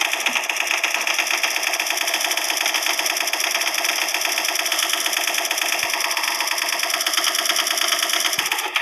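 Rapid, continuous automatic gunfire rattles loudly and without pause in the video game Special Force 2, dense and mechanical throughout.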